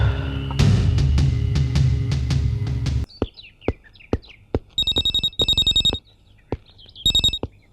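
A telephone rings in a scene from the Telugu film Nee Kosam, first a dense trilling bell over low background music, then several bright repeated electronic ring bursts separated by short pauses, loud and close.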